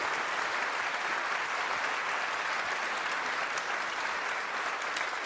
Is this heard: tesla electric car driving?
no